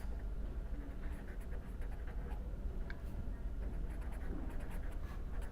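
Faint, scratchy strokes of writing on a board come in short bursts over a low, steady background hum, with no talk.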